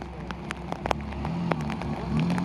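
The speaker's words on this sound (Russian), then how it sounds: "Под дождем." Steady rain patters on surfaces in the mountains with scattered sharp drops, over a low rumble of traffic or an engine.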